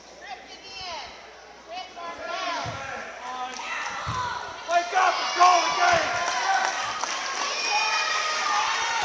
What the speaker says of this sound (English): It is a fired up crowd.